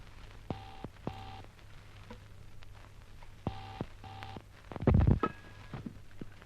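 A public telephone being dialled in an old radio drama: a few paired tone beeps in short bursts, then a clattering handset or coin sound, close and clear with no talking.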